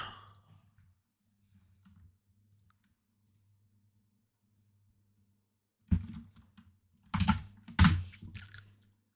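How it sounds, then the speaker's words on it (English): Computer keyboard typing comes in two short bursts of clicks after a long near-silent stretch with a faint low hum, the keystrokes close and moderately loud. "Sarah's typing."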